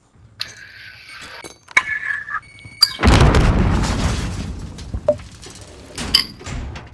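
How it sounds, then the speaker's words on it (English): Gunshots in Call of Duty: Modern Warfare erupt suddenly as a loud, booming burst that rolls off over several seconds, preceded by quieter clinks and mechanical game sounds and followed by scattered sharp reports. "Alright, I hear gunshots."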